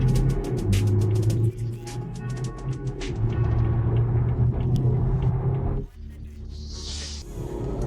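A stock BMW F30 3 Series accelerates hard from a standstill toward 100 km/h, its engine a loud, steady droning rumble that holds for several seconds before a brief dip as it shifts, then builds again.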